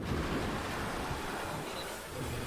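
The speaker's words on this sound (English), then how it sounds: "Wave. Just lots of water." Continuous rushing ocean surf from a Nintendo Direct trailer, a steady broad wash of waves with wind-like hiss, fairly loud and unbroken, no voices.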